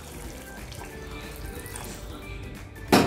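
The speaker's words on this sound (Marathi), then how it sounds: "आपण आता याच्यात टाकतोय कोमट पाणी" Lukewarm water poured into a pan of dry-fried chicken with oil for a Marathi-style chicken curry, a steady trickling pour running throughout, then a louder splashing burst near the end.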